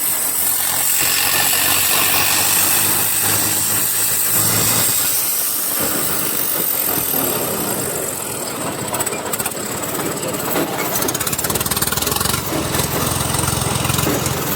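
A Swaraj 855 4x4 turbo tractor engine runs loud and close with a steady, dense diesel drone and rattle, its pitch shifting slightly as the foot accelerator is worked, while someone talks over it.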